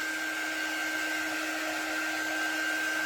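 Hair dryer blowing steadily on fresh paint on a drop-in craft frame insert, a continuous loud whooshing hum with a high whine, close and alone with no talk.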